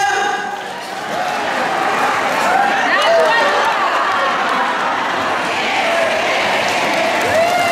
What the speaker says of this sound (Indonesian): Sekali lagi tepuk tangan buat Dr. Adelia